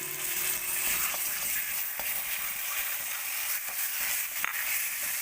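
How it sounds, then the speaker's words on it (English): Boiled moong dal going into a pan of spring onion gravy that keeps up a steady, close hiss of frying and sizzling, with faint stirring scrapes and a few sharp ticks throughout. "Now we'll put in the boiled moong dal."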